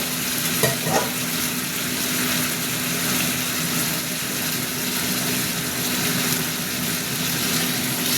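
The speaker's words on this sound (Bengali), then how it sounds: "মশলাটা কষবো তো।" Steady sizzling and frying of spices with fried potatoes and chilli powder in a hot pan, a continuous crackle with a brief stirring scrape near the start, no talking.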